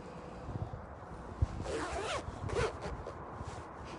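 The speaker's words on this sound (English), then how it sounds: "hold this and I'm gonna zip up my jacket" A jacket zipper being pulled up outdoors on a cold night in El Paso, Texas: a short rasping zip sweep heard close, over faint background noise and handling rustle.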